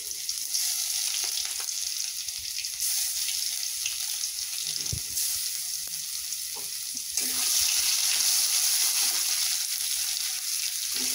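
Banana flower frying in a pan with ground ginger-garlic masala, a steady close hiss and sizzle that runs throughout and brightens slightly near the end, with no talking.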